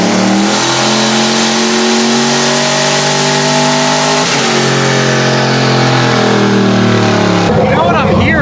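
A car fitted with a newly installed engine revs hard, its rising engine note climbing steadily through the gears, loud and close. The pitch drops briefly partway through, then climbs again before cutting off.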